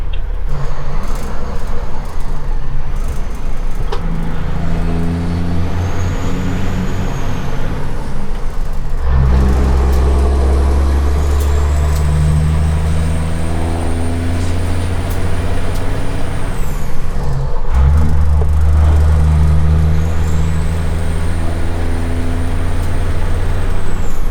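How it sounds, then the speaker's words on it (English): A 1982 Freightliner cabover truck drives with a loud, close diesel engine droning and climbing through gears, with two sharp shifts marked by low rumbling bursts and faint whining tones above. "Driving a truck that's, almost half a century old at this point."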